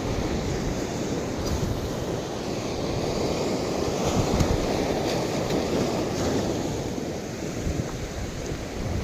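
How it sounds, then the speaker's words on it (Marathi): Loud, continuous roar of high-tide sea waves surging and crashing on rocks on the coast at Reddi, with wind buffeting the microphone throughout and no talking. "पाणी बघा काय मारतंय खतरनाक"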